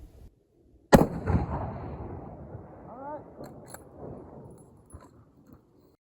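A single loud, sharp crack of a budget rifle firing at a PRS precision shooting match, followed by a decaying echo and faint ringing with some quiet talk afterward.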